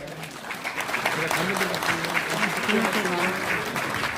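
A crowd at a political rally claps steadily, dense applause filling the space while a voice speaks over it.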